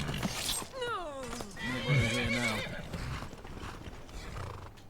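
A horse in the Skyrim video game lets out a near, descending whinny, followed by a second harmonic call, with hoof clip-clops and game noise underneath.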